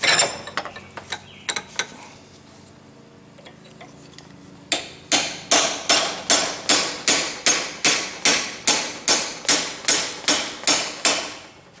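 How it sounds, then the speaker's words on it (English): Hammer blows on a rounded fullering chisel against a hot nail being forged into a grilling fork, first light scattered taps, then a loud, regular run of ringing strikes, close and alone. "Then I'll use my fullering chisel that's rounded off on the end to get rid of that sharp cut."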